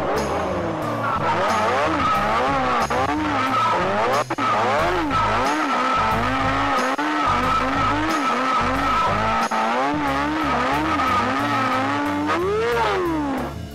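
A motorcycle drifts with sustained tire squeal and skidding, the engine note rising and falling in repeated swoops, loud and close throughout with no talking.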